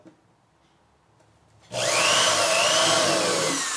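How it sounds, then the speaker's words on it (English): A power drill bores a couple of small holes in a wooden flyfishing wheel workpiece, starting abruptly after a quiet moment and then whining loudly and steadily at close range. "to drill a couple holes and just put some marks here where the screws were"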